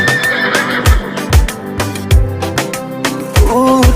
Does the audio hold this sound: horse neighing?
yes